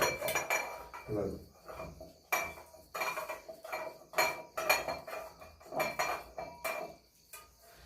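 Onion roasted in a wood-fired stove is pounded in a mortar and pestle, giving close, rhythmic strikes with hard clinks and knocks roughly every half second to second, separated by short pauses.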